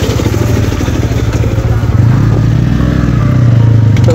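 A Bajaj Pulsar N160 motorcycle engine runs loud and close, a steady rumbling idle that rises as the bike pulls away and rides on.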